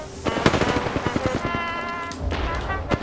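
Rapid automatic-weapon fire from the Apex Legends video game: dense bursts of shots, loud and close, with further pops and thumps and a voice briefly heard under the gunfire.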